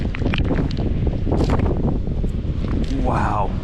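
Strong gusting wind on an ocean beach buffets the microphone with a loud, constant low roar, and someone talks over it.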